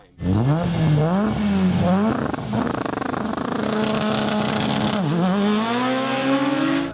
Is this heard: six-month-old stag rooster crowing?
no